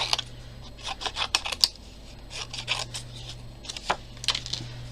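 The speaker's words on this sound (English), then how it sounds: "So now I'm just going to take my scissors" Scissors cutting round paper shapes for a craft kit, giving repeated crisp snips and rustles in irregular bursts, close up with no talking.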